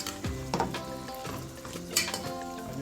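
Jamaican brown stew fish sizzles in a pot as it is stirred, with a utensil scraping and clinking against the pot over a steady frying hiss.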